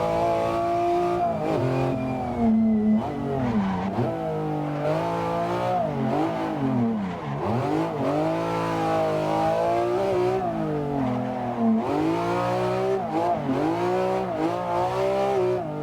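A BMW E46 drift car in a racing video game revs hard through a course, its engine note rising and falling in repeated sweeping swells with brief lifts between, loud and continuous throughout with no talk.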